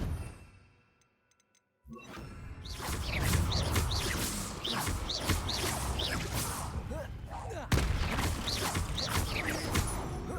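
Confringo fire spell bursts in the Hogwarts Legacy video game, a dense run of whooshing, crackling blasts and impacts after a brief near-silence, loud and continuous with sharp hits.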